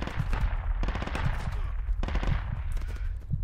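Rapid bursts of automatic gunfire and single shots in Project Reality, a military shooter game, crackle in repeated volleys throughout, loud and fairly close with a few distant echoing shots mixed in.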